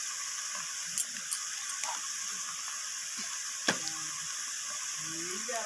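Ground spices and cumin powder fry in hot oil for a Bengali fish dish, giving a steady close hiss and sizzle with a few sharp clinks and taps of a spoon, no voice over it.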